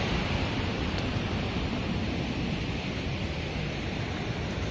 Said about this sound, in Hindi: और फाइनली हम लोग वाटरफॉल को मिल गया जंगल के बीच में